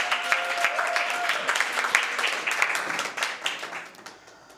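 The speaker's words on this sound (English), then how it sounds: "let's give both teams a round of applause." Dense audience applause for both debate teams at a competition round, a full wash of many hands clapping that holds steady before tapering off at the end.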